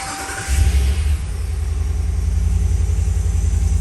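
A 2019 RAM 1500 truck engine cranks briefly and catches, then settles into a steady, close rumbling idle.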